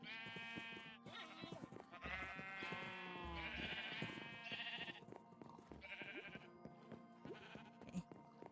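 Sheep in the Minecraft video game bleat several times in close succession. The calls are loud, near and nasal, with short gaps between them and no talk over them.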